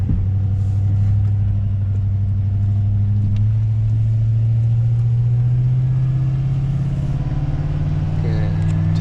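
A Ford Powerstroke diesel pickup with a muffler delete, towing a load, drones loudly and steadily on the road, its low exhaust note rising gradually as it pulls, with speech over it.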